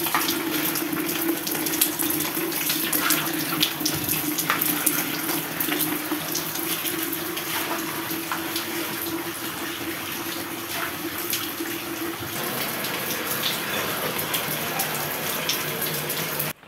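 Water from a leaking heating system in an attic gushes steadily into a flooded building in Nizhny Novgorod. The rushing flow is loud and continuous, like a fully open tap, with no talking.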